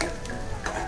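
Ground spice paste (masala) being sautéed in a pan for a Malvani-style prawn dish with raw mango, a loud close sizzle with stirring scrapes.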